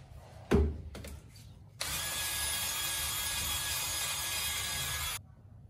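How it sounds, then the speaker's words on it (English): A power drill spins up and runs steadily for several seconds with a bright, scratchy whir as a wire brush attachment grinds rust off trailer brake metal, then stops; a few clunks come first. "I used a wire brush drill attachment to remove as much rust as possible."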